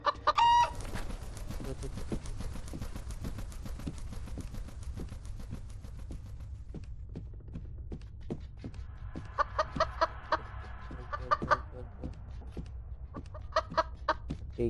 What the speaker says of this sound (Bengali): এই মুরগিটা